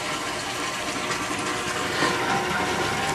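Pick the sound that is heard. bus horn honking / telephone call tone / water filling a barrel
water filling a barrel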